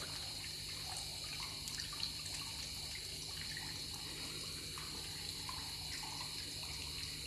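Water trickles and splashes steadily into a tadpole container, a continuous soft pouring sound with faint background noise and no talk.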